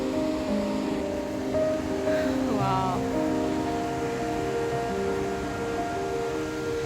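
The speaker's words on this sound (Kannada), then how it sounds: "ಬ್ಯೂಟಿಫುಲ್ ಆದಂಥ ಸಮುದ್ರ ತುಂಬ ದಿನ ಆಗಿತ್ತು ಸಮುದ್ರ ನೋಡಿ ಹ್ಯಾಪಿ ಫೈನಲಿ" Sea waves at Cheru Rock beach near Kannur, a constant broad wash of surf with wind noise, and a voice speaking over it midway.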